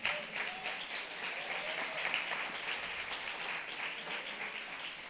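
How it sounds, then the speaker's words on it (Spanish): A church congregation applauds the Lord during a Spanish-language sermon, a steady, dense wash of many hands clapping that fills the whole stretch at an even level. "Den un fuerte aplauso al Señor."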